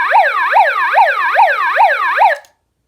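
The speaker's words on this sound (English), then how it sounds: "One of my sirens, here's what sound it makes." A toy tornado siren wails in rapid repeating up-and-down sweeps, loud and close, about six cycles before cutting off abruptly into silence.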